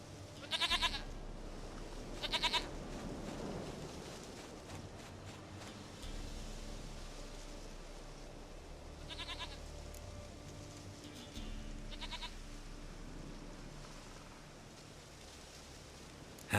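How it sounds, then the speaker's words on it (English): Goats bleat in The Witcher 3 video game, several short nasal calls over a low outdoor ambient bed, two loud ones near the start and fainter ones later. "Goat of mine, dearest, sweetest goat."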